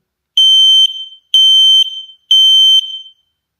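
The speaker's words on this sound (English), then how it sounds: "That is the button for testing that I pressed by accident" A loud, shrill smoke alarm test sounds three long, evenly spaced beeps, each with a short stuttering tail, close and piercing.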